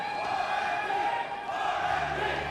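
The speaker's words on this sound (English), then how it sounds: "I think the crowd are trying to tell us something, Blank." A large esports crowd at a PUBG Mobile Global Championship grand final arena roars and chants continuously, a dense sustained wall of voices.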